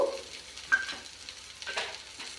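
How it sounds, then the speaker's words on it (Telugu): Onions and curry leaves frying in a pan for a millet (jonna) snack, with a soft steady sizzle and a few faint stirring scrapes, no voices. "మళ్ళీ ఆనియన్స్, కరివేపాకు వేసుకొని బాగా వేయించుకోవాలి"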